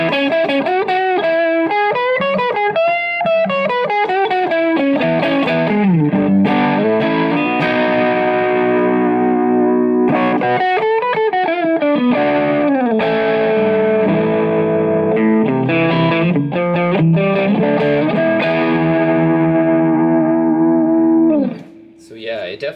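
Electric guitar through an overdrive pedal with the gain set at noon and turned up, playing distorted chords and melodic lines loud and close for about twenty seconds before a sudden drop at the end.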